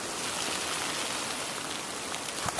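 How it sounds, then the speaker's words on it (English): Rain falls steadily in a pine forest, a continuous close hiss of drops on foliage and ground with a slightly stronger patter near the end. "It's really raining."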